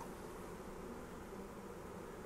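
Honeybees swarm around a backyard hive in a steady, dense buzz that holds evenly throughout, with no voices over it.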